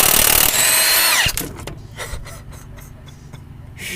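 A Milwaukee M18 impact wrench rips a stubborn nut loose in a loud, dense burst of high-pitched hammering that cuts off abruptly after about a second, followed by quieter scattered clanks and handling noise.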